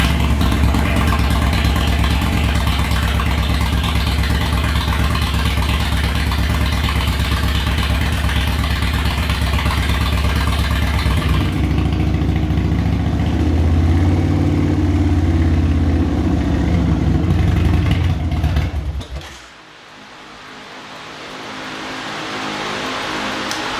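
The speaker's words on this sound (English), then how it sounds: "let's go ahead and start the bike" An Indian motorcycle engine runs loud and steady at idle with no talk, its tone shifting partway through before the sound drops away sharply and continues more quietly.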